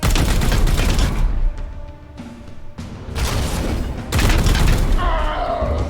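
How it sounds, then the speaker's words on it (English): Support fire shooting in the Warhammer 40,000: Chaos Gate Daemonhunters video game, heavy booming gunfire in loud sustained bursts separated by a brief quieter gap, ending in another rumbling volley. "we get a shot in on him, and that'll trigger support fire to finish him off"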